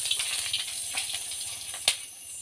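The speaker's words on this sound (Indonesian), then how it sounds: "goreng udangnya ini." Shrimp frying in a pan outdoors at night in a forest, giving a steady soft hiss and sizzle with faint crackles and one brief louder pop near the end, no talking.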